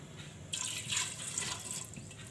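Water pours from a vessel into a pressure cooker holding chickpeas, a short splashing gush starting after half a second and running steadily for nearly two seconds, close and fairly soft.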